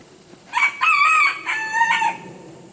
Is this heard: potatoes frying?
no